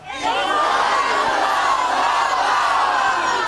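Studio crowd on a live breakfast television show shouting together in unison, a loud sustained roar of many voices that swells in quickly and holds steady.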